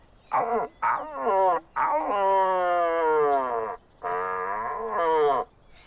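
A person imitating a rutting red deer stag's bellow with a voice: a few short grunting calls followed by long, drawn-out roaring bellows, loud and close.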